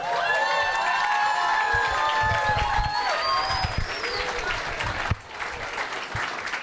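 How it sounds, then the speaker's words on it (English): A stand-up comedy audience claps loudly and continuously, mixed with crowd noise, cheers and a few whistles, tapering briefly near the end. "That's very nice of you guys to applaud and everything"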